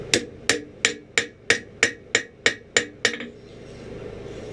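A hammer strikes a hand-forged 1700s-style scalping knife blade on an anvil while chamfering the edge: ten crisp, evenly spaced metallic blows, close and loud, then a faint ringing fade.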